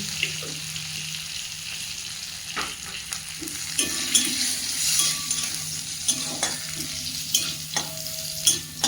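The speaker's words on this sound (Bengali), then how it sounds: "তেলে শুকনো লঙ্কা দিয়ে দিয়েছি, গোটা রসুন দিয়ে দেবো, তেজপাতা, দিয়ে দেবো গোটা জিরে," Dried red chillies, whole garlic, bay leaf and cumin frying in hot oil, a low crackling sizzle punctuated by irregular clatter of a spoon stirring in the pan, close, with faint running-water sounds in the background.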